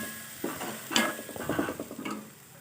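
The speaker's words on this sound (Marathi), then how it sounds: "आणि व्यवस्थित इथे मिक्स करून घेऊ" A spoon works boiled dried peas through fried spices in a pan, making several scraping strokes and clinks against the metal over a low sizzle.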